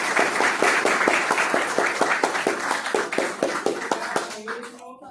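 Audience applause at a literary gathering of a letters academy at a university in Porto Seguro, with clear rhythmic clapping that fades out near the end as a voice begins speaking.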